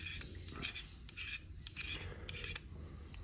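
A cutter blade scratches epoxy off the back of a mirror in short, quiet rasping bursts, several scrapes in quick succession, close up and faint.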